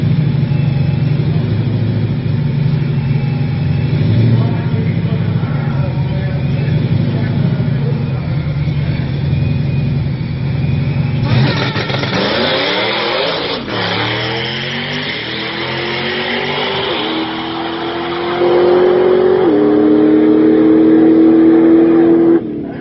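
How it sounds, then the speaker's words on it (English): A loud drag racing car engine rumbles steadily, then suddenly revs hard into a rising, screaming wail that climbs in pitch and holds at full volume near the end. "Man, that car's loud."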